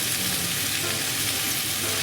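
Soy sauce hits a hot frying pan beside chicken thigh pieces and mushrooms, giving a dense, steady hiss of sizzling and spitting oil close to the microphone, with no voices.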